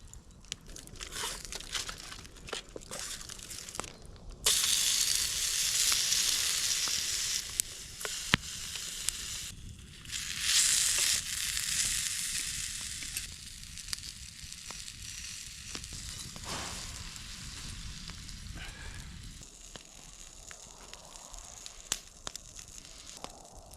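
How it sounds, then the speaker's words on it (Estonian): Bacon fries in butter in a pan outdoors in a winter forest, giving a loud, steady crackling sizzle that swells in bursts and eases between them, with no voices. "Mis oleks, kui me küpsetaks hommikuks peekonit hoopis ja nuudleid ka"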